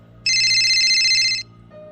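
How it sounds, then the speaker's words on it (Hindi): A phone rings in a single loud, bright electronic tone lasting just over a second against a quiet room. "अचानक फोन बज गया।"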